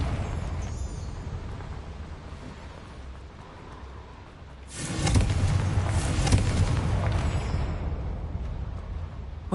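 A Confringo blasting spell detonates in Hogwarts Legacy, a loud sustained explosive boom that erupts about halfway through and rumbles on over steady game ambience.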